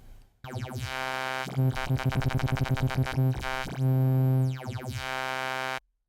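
A Sylenth1 synth tone run through a phaser modulated by an LFO, a sustained buzzy note whose sweeping notches speed up and slow down over about five seconds before cutting off, alone.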